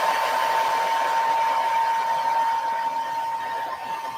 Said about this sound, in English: old blow dryer